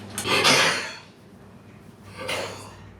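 A woolly monkey coughs twice after anaesthesia, rough and breathy, about two seconds apart, the first longer and stronger, with a faint low hum in the background.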